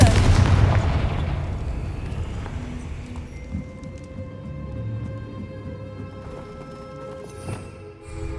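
Confringo fire spells from the Hogwarts Legacy game burst as a loud booming blast up front, followed by a rumbling decay and scattered smaller cracks and pops over a steady game ambience.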